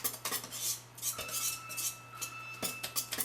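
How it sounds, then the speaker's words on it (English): Buttermilk pancake batter is mixed by hand in a bowl, with steady rapid clinking and scraping of a utensil against the bowl throughout. "you can see the motion that I'm using to get this all well mixed"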